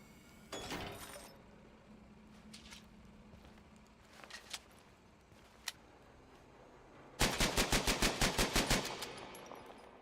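Rapid automatic bursts from a gun in the game Chernobylite: a short volley early, scattered single clicks and shots, then a loud fast string of about ten evenly spaced shots near the end, no talking.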